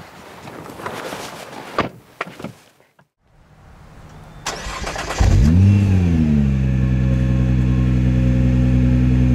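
A 2010 Nissan GT-R with under 3000 miles: a few handling clunks and a door thud, then the engine fires up loud and close, revs, and settles into a steady, strong idle.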